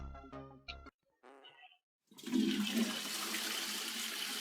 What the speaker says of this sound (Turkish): Sifon çekilsin.